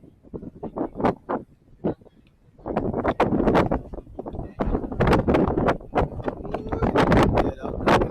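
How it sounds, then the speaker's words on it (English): Strong wind roars and buffets the microphone on a fishing pier in Carteret, New Jersey, with a stormy sky overhead. The wind comes in loud, uneven gusts with rumbling bursts, and no one speaks. "Yeah, that wind is strong."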